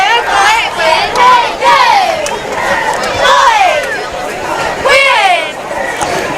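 Crowd noise at a high school football jamboree game between Pike Lib and Highland Home, loud and steady with shouting and cheering rising and falling throughout.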